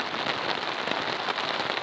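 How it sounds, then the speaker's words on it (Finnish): Heavy rain drums steadily on the fabric of a large family tent, a dense, continuous hiss and patter with no pauses, close and enveloping. "välillä sataa todella kovaa ja nyt taas ihan reilusti"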